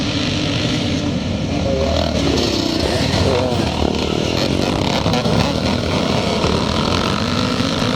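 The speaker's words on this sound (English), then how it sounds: "number 60 going through there is Callum Wilson on the little CR250 Honda Elsinore" Twinshock Grade C motocross bikes, including a Honda CR250 Elsinore, racing uphill at a Northern Ireland classic scramble, loud continuous two-stroke engine roar from several machines with a commentator speaking over it.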